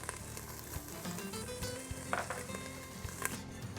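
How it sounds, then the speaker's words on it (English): Bacon and melted butter frying in a soup pot, a steady close sizzle and crackle with occasional scraping stirs and small pops, no speech. "we're going to go ahead and add our bacon. Want to go ahead and render down this bacon a little bit."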